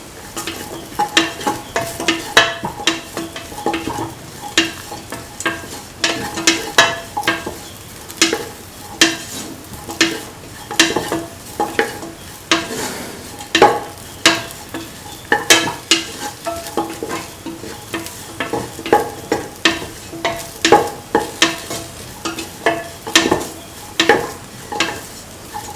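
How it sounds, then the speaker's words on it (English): Chicken rice with carrot and coconut milk fried in a pan while spices are stirred through, giving a steady sizzle broken by repeated scraping stirs, close and fairly loud with no voices. "Mix in the mixture of spices. Thoroughly mix."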